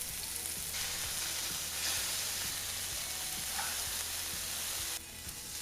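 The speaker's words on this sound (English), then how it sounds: "I cooked up 2 burger patties." Two burger patties seasoned with chili powder, garlic powder, salt and pepper sizzle steadily in a pan, a continuous close hiss with a few faint clicks, no talking.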